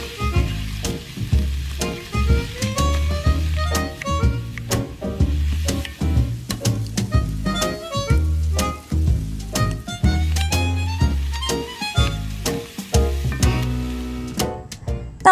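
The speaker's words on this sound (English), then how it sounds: "let's head on over to our skillet and brown that sausage up till it's thoroughly cooked" Sausage browning in a skillet, a steady sizzle and frying crackle running throughout, up close, with the whole sound sitting under music.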